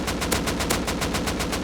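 A bare AK with no attachments fires full-auto in the Rust survival game: a loud, rapid, evenly spaced stream of cracking shots running unbroken for the whole stretch.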